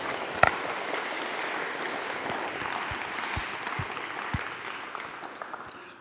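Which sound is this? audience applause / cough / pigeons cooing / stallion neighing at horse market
audience applause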